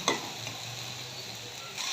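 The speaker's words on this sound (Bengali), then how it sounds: "শাকটা আমার ভাজা ভাজা হয়ে গেছে" Jute leaves with broken dried chilli fry softly in a pan, a faint steady sizzle with a brief scrape of a spatula at the start and end.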